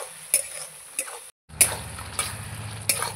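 Meat and spices being stir-fried in a pan, with a steady low sizzle under repeated sharp scrapes of a utensil against the pan about every half second, close and without talk.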